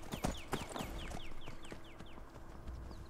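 Horse hooves clip-clopping in a fantasy role-playing video game, a quick steady run of light hoofbeats close by, fairly quiet, with no talking.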